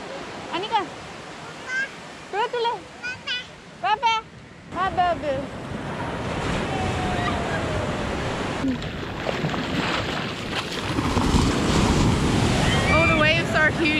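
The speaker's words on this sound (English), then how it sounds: "Oh, the waves are huge this morning." Large waves crash and roar onto a South Goa beach in the morning, a continuous heavy wash with wind noise on the microphone, and people talking over it at the start.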